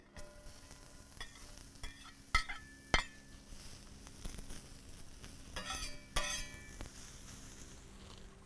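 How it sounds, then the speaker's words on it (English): Onions sizzle on an outdoor MoJoe griddle under steady frying hiss, with scattered sharp scrapes and clinks from a metal spatula. "So let's get our onions going."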